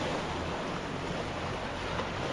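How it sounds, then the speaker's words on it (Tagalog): Sea waves washing in a steady broadband roar, mixed with wind buffeting, continuous and fairly loud throughout with no voices. "May dagat."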